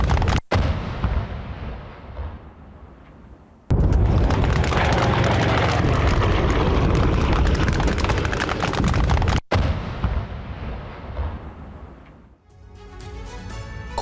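Heavy blasts and gunfire from a Russian Mi-28 helicopter attack on Ukrainian troops in Kursk, loud and sustained, with a dense burst in the middle section and sharp cutoffs between segments.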